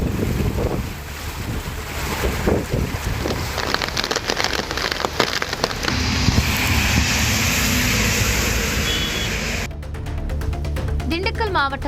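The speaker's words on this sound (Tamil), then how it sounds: "பலத்த காற்றுடன் கனமழை பெய்தது" Heavy rain driven by strong wind in the Krishnagiri area of Tamil Nadu, a steady dense roar of downpour and gusts filling the whole stretch, loud and continuous with no pauses.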